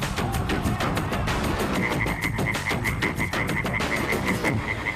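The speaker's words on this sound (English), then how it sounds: "listen into the night and you hear the frogs calling all" A dense chorus of European tree frogs croaks rapidly and continuously at night, one loud nearby caller repeating a rhythmic high-pitched note over many others.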